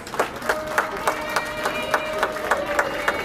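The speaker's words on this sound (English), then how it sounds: "Let's give them a big round of applause." Crowd applause with a steady, rhythmic beat, as if many hands clap roughly in time, over a busy room background.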